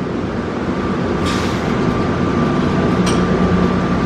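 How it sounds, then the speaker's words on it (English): An airport plane train people mover departs, a loud steady rumble and roar of the moving car with a faint tonal whine and two brief hissing bursts. "Welcome aboard the plane train. Please hold on. This train is departing."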